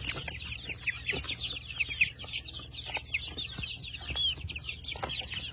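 About forty-day-old chicks cluck and chirp continuously at close range, a dense flock of high, scratchy calls with faint thumps underneath.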